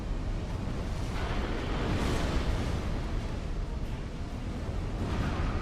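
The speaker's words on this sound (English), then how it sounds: "Ooh, that's an explosion." A rumbling, sustained blast from a Smelter Demon boss fight in Dark Souls 2, a loud broadband roar that swells around the middle and rolls on to the end without any speech over it.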